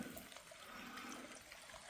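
Water rushes steadily through a swampy creek in the Pennsylvania woods during a bear hunt, a broad, continuous wash of flow heard close and fairly loud with no voices.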